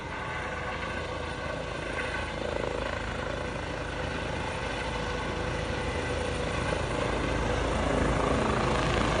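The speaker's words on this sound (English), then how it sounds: "That's a very cautious, slow takeoff. This helicopter doesn't come and go very much" A helicopter's rotor and engine drone steadily and loudly, growing slightly stronger toward the end as it lifts off.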